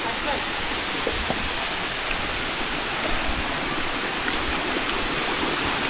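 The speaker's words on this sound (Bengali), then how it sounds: "তো এটা হচ্ছে মিঠাইছড়ি ঝর্ণা" Mithaichhari waterfall in Sitakunda, a steady broadband roar of falling water filling the whole stretch, close and constant with no breaks.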